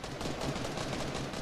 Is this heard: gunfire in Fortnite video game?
yes